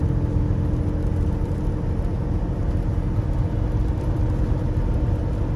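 A super C motorhome cruises up Wolf Creek Pass in Colorado at about 45 mph, its engine and road noise forming a steady, loud, low rumble with constant whir throughout, and no talking.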